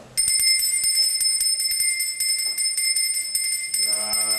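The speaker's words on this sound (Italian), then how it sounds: "Suona il campanello!" An electric doorbell rings in one long, continuous metallic trill, starting abruptly and holding steady and loud for over four seconds, with faint background sounds from the room beneath it.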